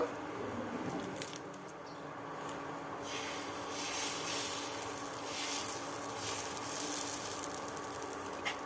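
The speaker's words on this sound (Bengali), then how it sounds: "আবার ঘি দিয়ে মুছে নেব" Soft rubbing and wiping on a pan greased with ghee while cooking chapti pitha at home, a steady low scraping texture heard close and alone.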